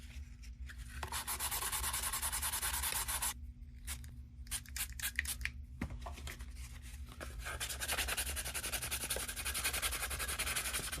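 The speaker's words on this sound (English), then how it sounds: "I'll just spend a couple hours this evening and tomorrow morning sanding these seams" Close, steady sandpaper rubbing on the seams of a plastic model kit, in rapid back-and-forth strokes with a few short pauses, no talking.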